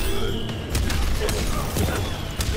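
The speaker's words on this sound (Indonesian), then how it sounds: "Suaranya suara granat tuh lo biu biu kayak game" Grenade blasts in Mortal Kombat X come as several sharp bursts over a constant game backdrop, with people talking over them.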